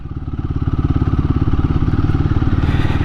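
A Royal Enfield Guerrilla 450 motorcycle exhaust while riding, a loud, steady, throbbing low grunt with rapid even pulses, close and continuous.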